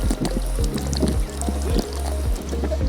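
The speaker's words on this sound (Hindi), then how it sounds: "इस बटन को आप दबाते हैं, ये पानी आता है।" Water from a push-button public drinking fountain on Manhattan Beach splashes and trickles steadily and close by for a few seconds, with a faint low rumble underneath.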